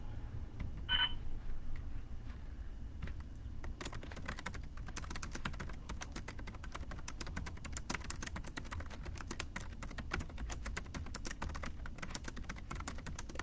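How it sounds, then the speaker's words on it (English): Rapid clicking keystrokes on a computer keyboard while a text message is typed, quiet at first and then dense, continuous tapping over a low background hum. "I can just type a quick text message out to Carlos"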